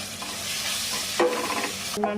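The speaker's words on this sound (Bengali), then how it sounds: "সব কিছু একলগে কষাইলাম।" Beef and button mushrooms with turmeric, garam masala, cumin and coriander powders sizzle loudly in a pan while being stirred, with a couple of sharp scraping strokes of the spoon.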